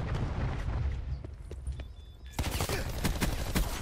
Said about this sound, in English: What's the nade incoming? Ah, the stupid grenade.